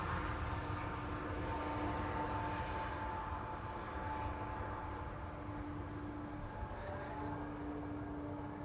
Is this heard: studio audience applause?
no